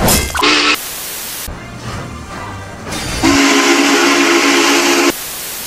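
Union Pacific steam locomotive No. 844's whistle sounds a short blast, then a loud, steady blast of about two seconds, with hissing and rumbling steam noise between.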